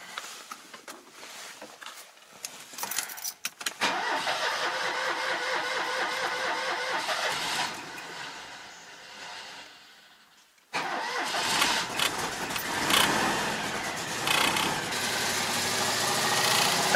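A car engine cranks and catches, runs at idle, stops, then restarts and idles again. A secondary knocking runs beneath the steady running noise, close and fairly loud.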